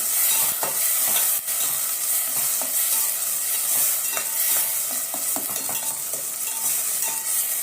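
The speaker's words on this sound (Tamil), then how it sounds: "இப்போ நல்லா வதக்கி விட்டுடலாம்" Salted eggplant and vegetables for a kara kuzhambu sauté in a pan under a dense, steady sizzle, with frequent stirring scrapes close up and no voices.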